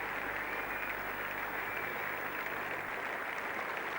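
Crowd applause at an England versus West Indies cricket Test match at Old Trafford in 1980, a continuous distant wash of clapping from the ground with a low hum beneath, steady and fairly soft.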